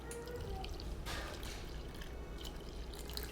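Water pours into a recipe mixture in a continuous liquid trickle, with a few brief splashy accents over a steady background.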